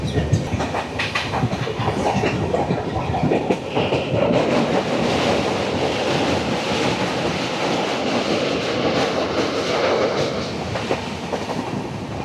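The Kaziranga Express, travelling between Kolkata and Guwahati, rolls steadily along the rails with a constant loud rumble and rhythmic clickety-clack of wheels, heard from inside the moving train.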